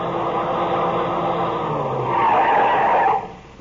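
Car tires skidding on a rough road in a radio drama sound effect, a long rising squeal over engine noise that swells then cuts off abruptly as the car stops, loud and alone.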